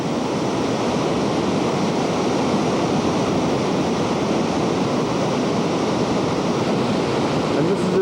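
A river in Nepal rushes with a steady, loud broadband roar that stays unbroken throughout, with no voices over it.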